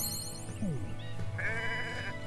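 A cartoon sheep bleats in the turn-based adventure game Renowned Explorers, one short wavering cry rising over soft game music.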